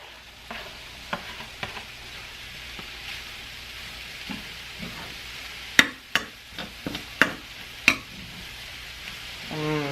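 Beef being stir-fried with cauliflower rice in a pan, a steady sizzle beneath scattered utensil scrapes and clacks that bunch into several sharp knocks midway, with no talking.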